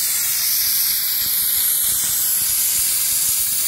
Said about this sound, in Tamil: குக்கர் விசில் விட்டோம் நான்.